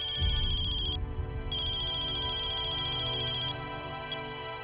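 A mobile phone ringtone plays on its own, a steady repeating electronic melody that briefly drops out for a moment before continuing.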